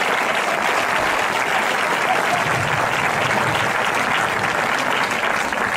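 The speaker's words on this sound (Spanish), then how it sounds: "Pues un aplauso para ese programa." Dense, steady audience applause at a sports club's team presentation, many hands clapping evenly for several seconds without a break.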